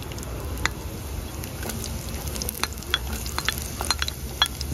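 Chopped onion sautés in hot oil with cinnamon for a soya chunk curry, producing a soft, steady sizzle with frequent close clicks and scrapes of stirring.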